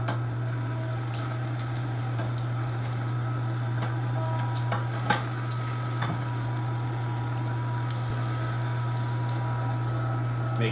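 Electric meat grinder working through venison, a steady loud motor hum with a constant grinding drone and occasional faint clicks and knocks, unbroken for the whole stretch.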